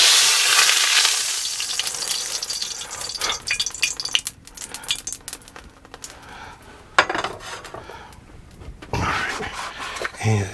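A Wagyu steak sears in a hot pan with avocado oil, a loud hissing sizzle that rises and falls while utensils clatter and scrape against the pan.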